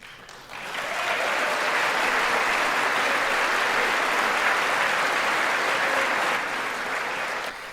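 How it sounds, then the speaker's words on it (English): Applause from part of the audience at the 2019 State of the Union address, a broad, steady wash of clapping that swells in after a moment, holds loud and even for several seconds, then begins to thin near the end. "It's always funny to me that only half of them clap."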